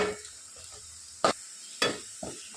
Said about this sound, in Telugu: నేను హై ఫ్లేమ్లోనే వీటిని ఫ్రై చేస్తున్నాను.